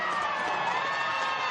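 Spectators at a women's Premiership rugby match between Trailfinders and Harlequins, a brief, dense roar of crowd noise swelling in a large stadium.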